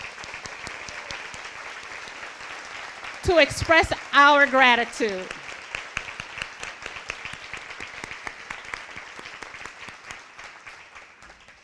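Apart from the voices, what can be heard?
audience applause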